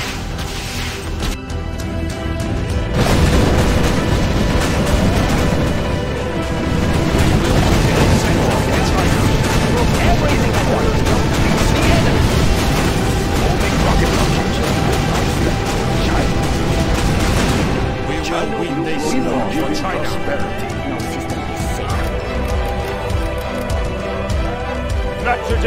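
Artillery fire and explosions from the real-time strategy game Command & Conquer Generals, with dense, loud, continuous booms and crashes that layer together over many seconds before thinning toward the end, with unit voice lines over them.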